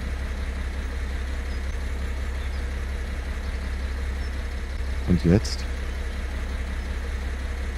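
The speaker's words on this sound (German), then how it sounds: "Motor starten, tatsächlich." Vehicle engine idling in Farming Simulator 17 on a farm, a steady low drone running throughout, with a short spoken remark partway through.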